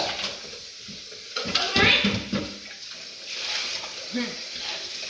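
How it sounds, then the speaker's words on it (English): Water splashes and sloshes inside a blender jar as it is rinsed after making coconut milk, with clinks of the container and some faint talking. "So giving the blender a quick rinse."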